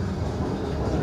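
A Hyderabad Metro train runs between Chikkadpally and Raidurg, producing a steady, close rail rumble and rolling wheel noise that stays constant throughout the short stretch, with no voices.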